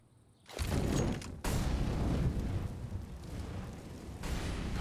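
An incendiary grenade in CS:GO on the Inferno map bursts into flame with a sudden loud whoosh, followed by a steady, dense roar of burning fire that fills the rest of the moment.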